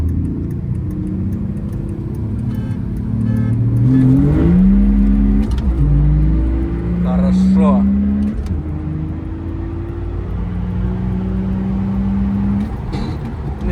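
BMW E46 330cd diesel with stage 2 tuning pulls hard from a rolling 40 km/h start in a race, the engine note rising loud and steady through the gears from inside the car.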